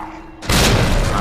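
A sudden loud grenade blast in Resident Evil 2 Remake erupts after a brief lull, a sharp boom followed by a sustained roaring rumble.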